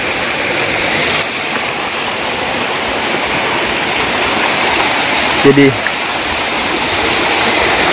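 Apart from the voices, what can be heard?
waterfall flowing along a river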